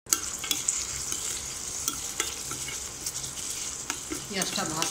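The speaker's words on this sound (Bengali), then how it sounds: "পেঁয়াজটা ভাজতেছি, লাল হওয়া পর্যন্ত অপেক্ষা করা লাগবে" Chopped onion, garlic and dried red chillies fry in a pan as a tempering for raw-mango dal, with a continuous close sizzle, scattered pops and occasional stirring scrapes.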